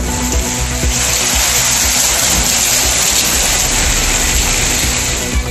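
Heavy rain falls in Kovilpatti, Thoothukudi district, Tamil Nadu, a steady loud broadband downpour roaring continuously throughout with no voices.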